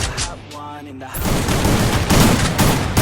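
Rapid bursts of gunfire ring out in the Free Fire video game, dense crackling volleys that grow heavier and more continuous after the first second, loud and close, with a voice briefly heard at the start.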